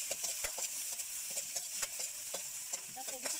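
An egg is frying in a pan as fried rice is cooked, with a constant close sizzle and a spatula scraping and stirring in quick, irregular strokes.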